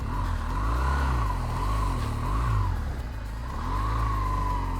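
A BMW GS 1200 motorcycle engine revs while riding off-road, its close, loud exhaust note rising and falling in pitch in repeated surges with no talk over it.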